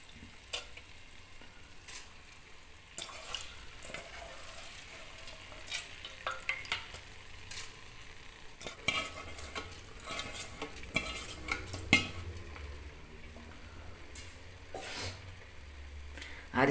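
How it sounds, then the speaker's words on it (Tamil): Soaked rice being stirred in a cooking pan with a spoon, soft scraping and clinks against the metal over a faint sizzle, close and quiet with intermittent sharper knocks. "அரிசி போட்டு ஒன்று கலந்து விட்டுக்கோங்க."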